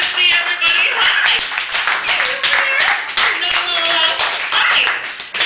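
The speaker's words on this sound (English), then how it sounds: "I gotta give my proper applause here" Hands clapping in applause at a Chicago poetry open mic in a cafe, a dense, loud burst of many claps running continuously, with a voice audible over it.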